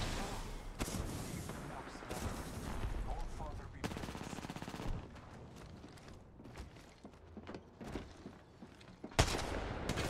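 Gunfire and repeated shots in an Apex Legends match, dense bursts of automatic fire and impacts running throughout alongside game sounds, with a player talking over the action.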